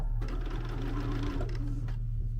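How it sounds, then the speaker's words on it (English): A home sewing machine runs steadily with a low motor hum and fast rhythmic stitching clatter, pausing briefly twice before carrying on, close and alone with no talk. "I gifted her a sewing machine"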